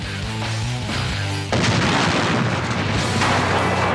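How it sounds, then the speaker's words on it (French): Scattered detonations from burning vehicle wrecks after a crash, loud heavy booms and crackling bursts that come in quick succession under a dense roar, close by. "On entend des détonations éparses, tandis que les réservoirs n'ont peut-être pas encore explosé"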